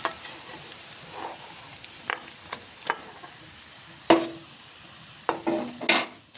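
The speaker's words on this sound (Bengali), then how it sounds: "এখন কড়া করে ভেজে নিচ্ছি" Sago pakoras fry in a wok with a faint sizzle, broken by intermittent clatters and scrapes of a utensil turning and moving them, some sharp and fairly close.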